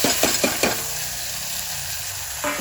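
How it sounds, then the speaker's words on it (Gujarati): Onion frying in a pan while being stirred, with a steady close sizzle and a few quick scraping stir strokes at the start and again near the end. "તો આ બાજુ ડુંગળી કમ્પ્લીટ શેકાઈ ગઈ છે"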